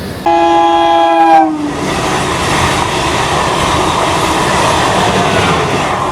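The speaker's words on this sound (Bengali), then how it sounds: "ট্রেন ছেড়ে দিয়েছে, ট্রেনের হর্ন দিয়ে দিল" A loud horn of the Tamralipta Express blares for about a second, then a steady rumble of the train pulling away fills the rest, broad and close.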